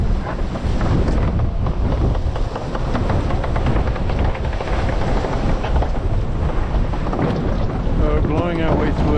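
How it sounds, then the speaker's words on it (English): Strong wind roars without letup in a squall aboard an 82 ft racing sailboat during the Fastnet Race, with heavy buffeting on the microphone and rushing water beneath. "We're blowing our way through a squall right now."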